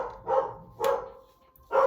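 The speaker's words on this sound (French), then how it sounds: "Mes chiens ont décidé de vous embêter" Dogs bark in three separate bursts, a couple of sharp woofs spaced apart with quieter gaps between them, fairly close by.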